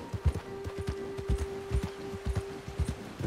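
Horse hooves in Red Dead Redemption 2, a steady clip-clop of a trotting horse with rhythmic close thuds over a faint sustained tone, a brief voice sound in the background.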